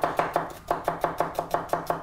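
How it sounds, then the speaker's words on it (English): A new knife chops red onions into half moons on a board, with steady, evenly spaced close-up thuds, about eight in two seconds, and no talking. "I'm chopping them to half moons."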